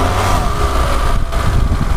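A petrol car's engine revs steadily, a loud, close, continuous mechanical roar across the short stretch with no talk.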